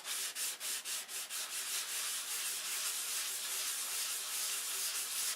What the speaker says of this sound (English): I'm going to unload the sandpaper. Sand it all back off